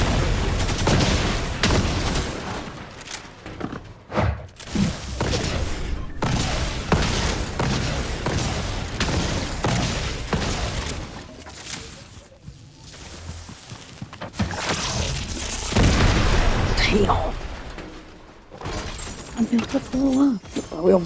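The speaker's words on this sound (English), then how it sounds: "We're under heavy fire." Heavy gunfire and booming explosions from a Fortnite Chapter 5 match fill the whole stretch, loud and dense, with bursts and thuds piling up under occasional talking.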